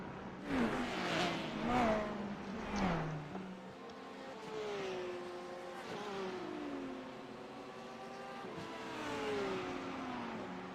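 GTD race cars, an Audi and a Porsche, roar past while racing for position, engines revving with rising and falling pitch as they pass one after another, with commentary faintly underneath.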